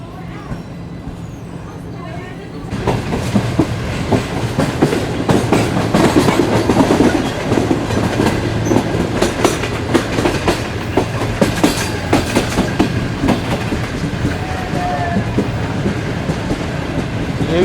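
The Shalimar Express rolls along the rails in Pakistan, starting quiet and then becoming a loud, steady rumble with a rapid clickety-clack rhythm heard from inside the train.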